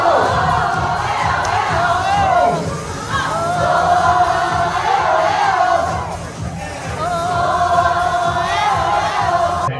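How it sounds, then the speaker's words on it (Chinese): Guests at a Keelung press conference cheer and shout loudly after a lively dance performance, a dense crowd roar with whoops rising and falling in waves over about ten seconds. "获得在场来宾拍手叫好"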